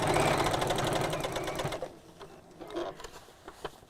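A sewing machine stitches around a cross-body bag lining in a brisk, loud run that stops after about two seconds, leaving quiet handling sounds.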